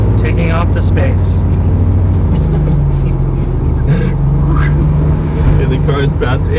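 Steady low engine drone of a 1952 Volkswagen Beetle while driving, constant and close from inside the car, with people talking over it.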